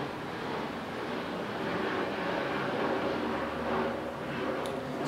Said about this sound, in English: Let's wait for this airplane.